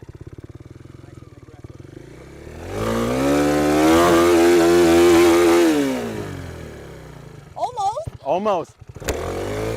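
A motorcycle engine idles, then revs up loudly and holds high as the clutch is released under heavy throttle before dropping back, followed by people talking excitedly.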